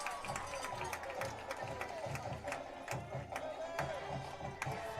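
A high school football crowd at a Lawton High versus Noble game swells with cheering and clapping, a broad steady roar with scattered sharp claps continuing for several seconds.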